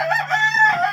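A rooster crows in one drawn-out, fairly close call with a wavering, rising and falling tone, set over a steady low hum.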